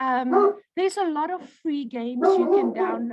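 Pet dogs barking and yipping in a home while someone talks over them, several short barks mixed under the continuous speech.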